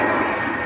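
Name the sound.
Scandinavian Airbus A320 jet aircraft at Manchester Airport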